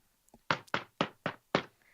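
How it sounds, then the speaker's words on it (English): Five firm knocks on a door in a quick, even rhythm, each a close, resonant thud with a short ring after it, preceded by a faint tap. "The knocking just kind of reverberates through the halls"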